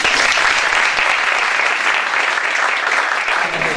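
An audience at an archives and conservation conference applauds the participants, a dense, loud, steady clapping that fills the room for several seconds.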